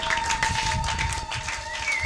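A church congregation claps and cheers in praise, a dense wash of applause from many hands filling the room steadily, with scattered voices mixed in.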